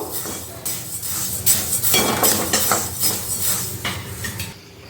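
Spices are dry-roasted in a pan for homemade sambar powder: repeated metallic scraping and clattering of a spoon against the pan, close and fairly loud, in uneven bursts with no voices.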